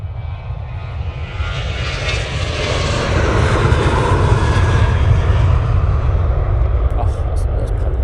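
An Airbus A380 departing Manchester Airport on a frosty day roars loud and close, its engine thunder swelling steadily and staying powerful across the stretch.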